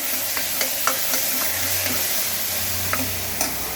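Onions sauté with rock salt in a pan, giving a steady close sizzle punctuated by regular scraping strokes of a spoon stirring.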